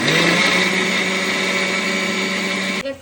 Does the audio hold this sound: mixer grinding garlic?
yes